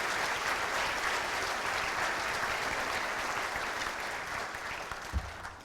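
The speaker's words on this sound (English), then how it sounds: "I think that deserves a round of applause" An audience at a College of Medicine commencement gives a round of applause, dense and steady clapping that fades slightly near the end, with a soft thump at the close.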